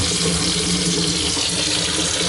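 Hot water gushes from a stainless steel sink tap with a hose attachment under strong pressure, a loud, steady hissing splash running continuously and close by, with no talk.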